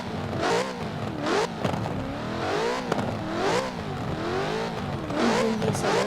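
A Lexus RC F engine in the racing game Forza Horizon 4 revs and accelerates through rising and falling gears, a continuous, close, loud engine drone.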